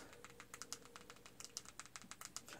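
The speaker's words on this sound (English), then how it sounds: "So type in open subtitles, one word." Quick, irregular keystrokes on a computer keyboard, crisp clicky taps at close range filling the whole stretch with no voice over them.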